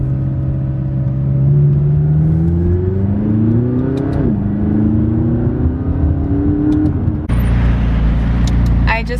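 A McLaren 570S sports car cruises through Thousand Oaks, its engine note climbing steadily through the gears with clear shifts, loud and close as if heard from inside the car.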